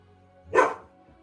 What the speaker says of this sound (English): If you bark at that window, you're locked out.